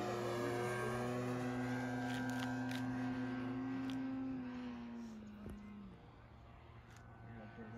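A Hanger 9 F6F Hellcat radio-controlled model plane drones steadily overhead, its engine tone holding and then dropping in pitch as it passes, loud and continuous throughout.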